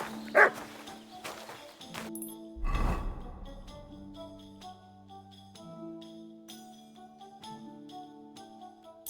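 In the video game Kingdom Come: Deliverance II, a dog gives a couple of sharp barks and a yelp over soft background music, with game-like sound effects around it.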